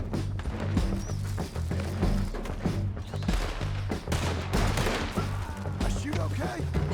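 Gunfire from the Red Dead Redemption 2 game: repeated sharp shots in irregular bursts over a dense, steady low game soundscape, fairly loud throughout, with someone speaking briefly.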